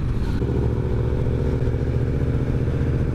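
Motorcycle engine running steadily and close, a low throbbing rumble with some mechanical clatter and no voices over it.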